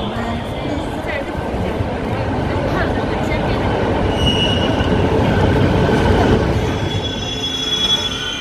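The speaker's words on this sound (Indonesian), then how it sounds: "Ini adalah kereta api Seqiang, kereta ekspres tercepat kedua" A Tze-Chiang express train at an elevated third-floor station in Taichung, Taiwan, rumbles past with a continuous loud roar, squealing wheels and metallic rail noise, close by and sustained.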